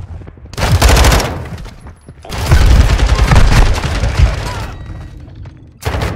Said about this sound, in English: I threw the nade back at him.